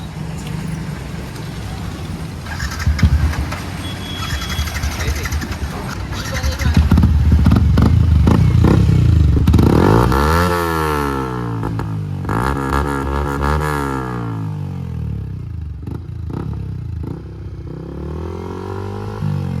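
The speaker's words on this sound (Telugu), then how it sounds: "సో ఇప్పుడైతే ఒకసారి ఎగ్జాస్ట్ సౌండ్ అయితే తిందాము, చూద్దాం ఎట్లా వస్తుందో" Modified Yamaha R15 V3 motorcycle exhaust, loud and close, rising through hard revs and repeated throttle blips with steady engine drone between, rumbling on its own with no talk.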